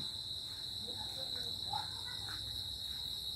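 Crickets chirping on a clear, starry autumn night outdoors, a steady high-pitched trill running throughout at a moderate level with faint scattered calls and low background rumble.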